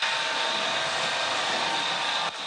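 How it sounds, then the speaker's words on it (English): A Zippy Sweeper Pro motorized floor sweeper runs close by with a steady, loud whirring hum that holds even throughout, dipping briefly near the end. "This is a motorized sweeper that can go under low-profile furniture."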